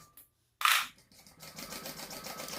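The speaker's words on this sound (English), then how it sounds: "I'm going to sew along the top edge, and then sew it at the seam allowance" A sewing machine stitches the top edge of a crossbody bag, a short whirring burst followed by a steadier run of rapid needle clatter, close and moderately loud.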